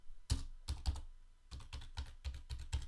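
Keystrokes on a computer keyboard as a password is typed: two short bursts of sharp clicks, a few taps, a pause, then a steadier run of six or seven taps, close and fairly quiet.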